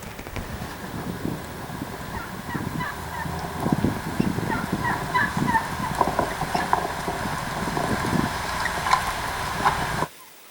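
Merriam's turkeys in open country on Nebraska public land gobble and cluck from a moderate distance in scattered repeated calls over a steady outdoor background.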